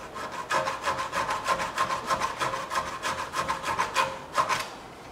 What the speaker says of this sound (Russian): берем либо такую, либо ножовку по металлу и пилим